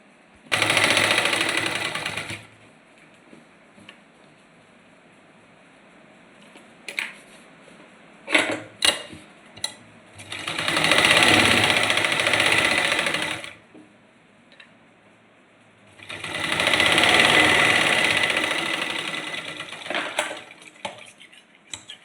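A sewing machine stitches lace onto a salwar in three runs of a few seconds each, with soft handling clicks and knocks in the pauses between them and no talking.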